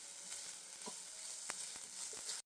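Chopped onion, grated ginger and garlic fry in oil with a little fennel seed in a kadai, giving a faint, steady sizzle with no voices.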